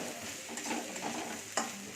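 Onions sizzle in hot oil in a pan while being stirred for a home biryani, a steady close frying hiss with scraping spoon strokes and one sharper clack near the end.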